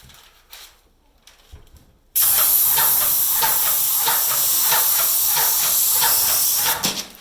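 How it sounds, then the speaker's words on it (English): A Wagner Titan airless paint sprayer bursts into a loud, steady hiss after a couple of quiet seconds with faint handling sounds, spraying continuously for about four and a half seconds before cutting off. "Alright, well I'm just going to keep spraying."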